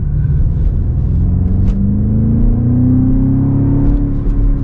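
From inside a 2024 BMW X6 M Competition, the 4.4 liter twin turbo V8 gives a loud, steady, deep rumble as it pulls, its pitch rising smoothly as the engine builds revs, with no talk over it.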